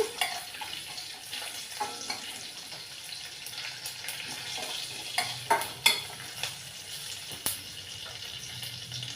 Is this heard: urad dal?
yes